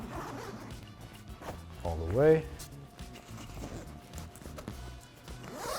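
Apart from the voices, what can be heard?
zippers opening expansion zips on Peak Design duffel bag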